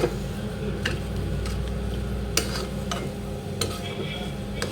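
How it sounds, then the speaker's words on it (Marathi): Cooked vegetable sandwich filling with fresh coriander gets mixed in a pan on the stove, a low steady frying hiss with scattered sharp spatula clicks and scrapes, no talking. "आता कोथिंबीर पण टाकून घेऊया आणि ही भाजी पुन्हा छान मिक्स करून घेऊया"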